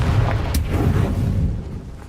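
A Confringo blasting spell goes off in Hogwarts Legacy on Nintendo Switch: a loud, close, low rumbling boom with a sharp crack on top that fades over about two seconds.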